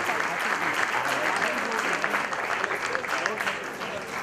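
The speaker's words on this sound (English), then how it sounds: "a big and thunderous round of applause from Michael Clarke and Govind" A large audience claps in a thunderous round of applause honoring Michael Clarke and Govind, a dense, steady roar of many hands held loudly throughout without a break.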